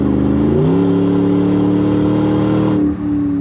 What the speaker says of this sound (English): You do have an aftermarket muffler, and then you have your dual tailpipes coming out the back,